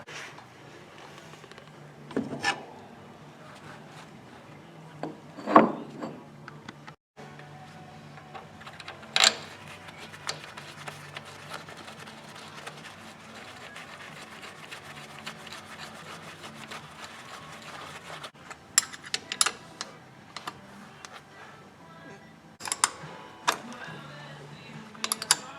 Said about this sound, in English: I just put that wrench on there, just like that, and it'll tighten that up